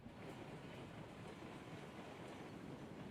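Train slowly gaining speed in the railway game Railroads Online, a faint steady rumble with soft rolling clatter, continuous and distant, no voices.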